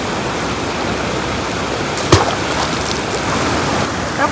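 A fast-flowing river rushes past a fishing spot, a broad steady roar of water near and loud, broken once by a sharp brief knock partway through.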